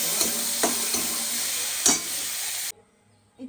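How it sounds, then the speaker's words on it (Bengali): Prawns fry in hot oil with onion and garlic, a loud close sizzle with a few scraping stirs, then the sound cuts off abruptly near the end, leaving near silence. "তেলের মধ্যে প্রথমে পেঁয়াজ রসুন দিয়ে চিংড়ি মাছটা একটু ভেজে নিচ্ছি"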